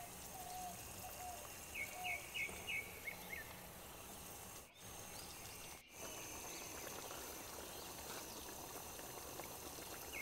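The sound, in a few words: fish curry simmering in a pot at a forest campsite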